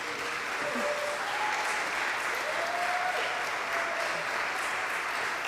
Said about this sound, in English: they've been clapping and cheering